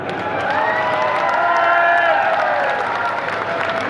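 A crowd at a political rally claps and cheers, a loud, sustained wash of applause with whoops rising in the middle and a voice ringing over the noise, then slowly thinning toward the end.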